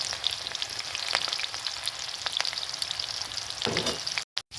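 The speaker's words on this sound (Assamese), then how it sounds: "তেলটো ভালদৰে গৰম হৈ লোৱাৰ পিছত পিঁয়াজখিনি দিব লাগিব। পিঁয়াজ দি দিয়া হ'ল।" Onions fry in hot oil in a kadai with a continuous bright crackling sizzle. Near the end a short burst of stirring comes before the sound cuts out briefly.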